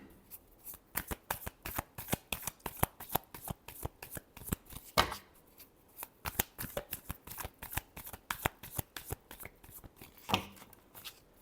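Tarot cards shuffled in rapid, crisp riffles, a dense run of close, papery flicks with a few sharper snaps, heard alone without talk.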